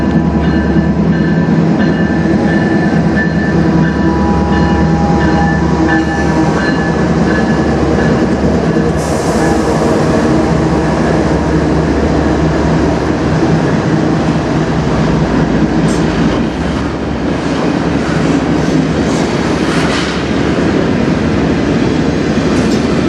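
A CN freight train passes on the Strathroy Subdivision, loud and close, a sustained rumble of rolling wagons with rhythmic clatter and occasional wheel squeal throughout.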